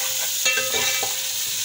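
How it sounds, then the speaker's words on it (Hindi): Ginger garlic paste fries in a pan with a steady close sizzle, broken by a few soft scraping strokes as it is stirred. "इसको भी फ्राई कर लेंगे।"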